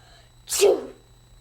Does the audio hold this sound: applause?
no